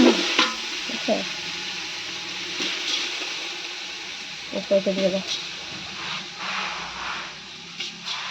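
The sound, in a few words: rice being fried in a pan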